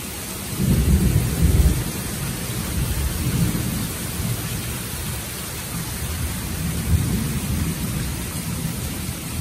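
Thunder rumbles low and heavy through a steady hiss of falling rain during a thunderstorm, swelling in several rolling bursts over nine seconds with no voices.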